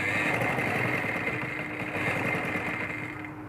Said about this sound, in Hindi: ये इस तरह रख के फिर इसकी सिलाई लगानी है।